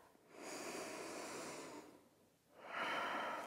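Deep breathing during a yoga flow: one long, slow, close inhale, a brief pause, then a strong airy exhale, heard alone and clearly.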